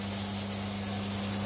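Pancetta frying in a pan with a splash of olive oil, a steady close sizzle with a constant low hum underneath, brief and unbroken.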